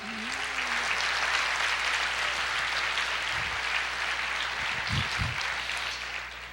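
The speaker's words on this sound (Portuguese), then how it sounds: "Você pode aplaudir o Senhor e dizer, eu creio." A church congregation applauds the Lord during a sermon, with a sustained wash of clapping from a large crowd over a low background hum and a few brief low thumps.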